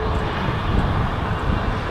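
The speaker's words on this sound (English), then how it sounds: "Oh, and the 330 behind it started moving again." Air Canada Airbus A330 airliner taxiing at Toronto Pearson airport, its jet engines giving a steady, loud, broadband roar that fills the short stretch with no talk.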